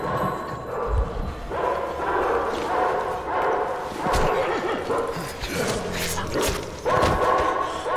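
Dog barking and whimpering in Metro Exodus gameplay, a run of sharp repeated yelps and barks close up amid game noise.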